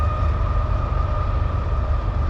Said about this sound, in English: Hopefully it's not a really long train.